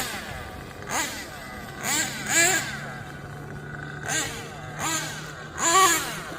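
A Kyosho USA-1 Nitro V2 RC monster truck's small nitro engine screams at full throttle through repeated rising-and-falling rev bursts in third gear, a steady buzzing wail between sharp climbing peaks.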